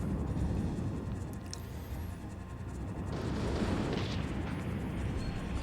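Booming cannon blasts in the video game Mega Man Legends, a dense run of rumbling explosions with a fresh burst near the middle, carried over a continuous roaring bed and sharp whistling effects.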